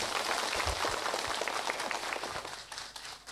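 An audience at a Buddhist dharma talk in a Vietnamese pagoda breaks into scattered applause, a fairly dense but soft wash of claps that gradually thins and fades toward the end.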